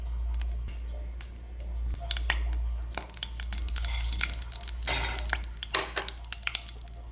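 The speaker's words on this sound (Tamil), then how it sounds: "கடுகு நல்லா பொரியட்டும்." Mustard seeds crackle in hot oil in a pan along with urad dal, cumin and dried red chillies. Steady sharp pops and splutters sit over a low hum, with occasional stirring clatter and no talk.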